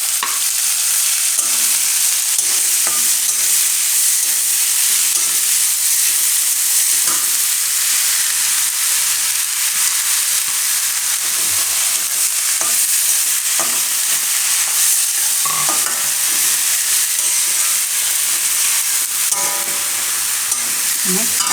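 Green onion and the white part of green garlic sizzle loudly in hot oil, a dense continuous hiss with scattered stirring scrapes and taps throughout, close and steady with no talk.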